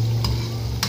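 Coconut milk frying and turning oily in a pan as it is stirred down into latik, a steady close sizzle with two brief scraping stirs, no talk.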